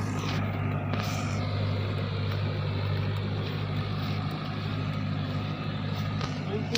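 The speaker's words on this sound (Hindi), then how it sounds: "नितो ट्रैक्टर हिजुआ तो" A tractor engine runs steadily with a constant low rumbling drone and mechanical rattle, heard close and unbroken, with faint voices in the background.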